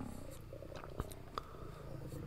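Soft, continuous cat purring from the video game Fear and Hunger, with a couple of brief meow-like chirps, under low droning game ambience.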